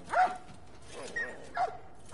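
Dogs in The Last of Us video game give three short, faint barks and yips spaced across about two seconds, distant and thin.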